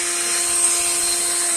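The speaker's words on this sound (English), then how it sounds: "Yep, this is the leaf blower. It's a leaf blower!" A leaf blower running close and loud during yard work in a heatwave, a steady roaring whoosh with a constant motor whine throughout.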